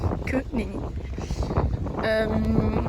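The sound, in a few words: wind blowing on outdoor microphone in Scotland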